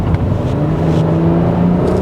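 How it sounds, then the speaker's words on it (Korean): A 2024 Porsche Cayenne's engine and exhaust hum steadily from inside the cabin while driving in normal mode, a low continuous drone with a rising engine tone and no speech. "뒤쪽에 배기음 들어보시고요."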